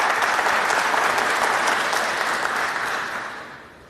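An audience at an international crime reduction conference in Peru applauds a speaker, the mayor of Santa Ana, El Salvador, with loud, dense clapping that holds steady and then fades out over the last second.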